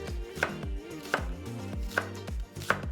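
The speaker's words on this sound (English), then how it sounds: "we're gonna cut this in half and slice this up" A knife slicing a bell pepper on a cutting board, four crisp chops spaced evenly under a second apart, close and clear with no voices.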